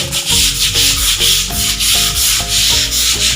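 Stiff brush scrubbing the paved yard of a kindergarten, a steady run of rough rubbing strokes about three per second, close and loud with no voices.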